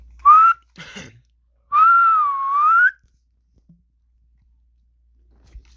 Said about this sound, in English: As he'd get up, he'd whistle.